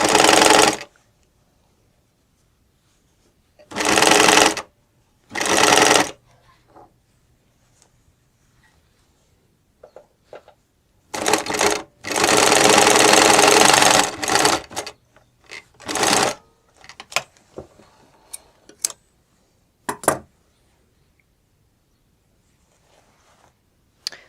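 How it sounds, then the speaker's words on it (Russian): A sewing machine runs in several separate bursts while stitching along the upper waistband of a skirt made from a pinafore, with short runs, one longer sustained run and quiet pauses between. "теперь строчим вторую строчку по верхнему поясу"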